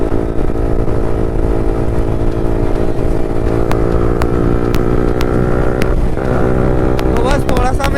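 A modified Yamaha MT-15 motorcycle fitted with an Akrapovic exhaust and a 160-size rear tyre drones loudly and steadily up close, its engine note rising in pitch near the end.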